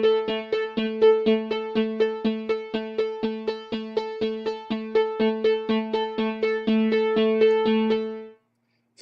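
Synth arpeggiator with the gate closed, firing a fast, even run of short, clipped notes that stop abruptly after about eight seconds, clear and alone.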